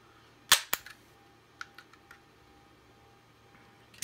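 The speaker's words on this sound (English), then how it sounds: "Just kind of get underneath there and pry up on it. It sounds like it's breaking" The plastic shell of a DJI Mavic drone cracks as it is pried open, with two sharp loud snaps followed by several fainter clicks and ticks in an otherwise quiet room.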